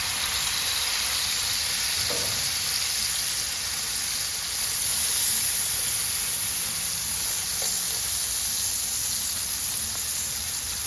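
Smash burger patties sizzling on a hot outdoor griddle, a loud, steady frying hiss that runs unbroken throughout, with a couple of faint scrapes and no talking.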